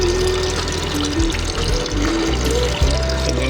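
Water poured into a koi fish tank, a steady close splashing and gurgling rush that runs the whole time with a low droning hum beneath.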